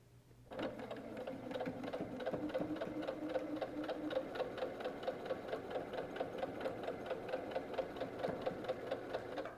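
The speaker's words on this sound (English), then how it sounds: "I've got them under my machine and I'm ready to start sewing a 1/4 inch seam" A sewing machine stitches a quarter-inch seam through paired quilt triangles laid right sides together, running steadily with a rapid, even mechanical rhythm from start to finish after a brief quiet opening.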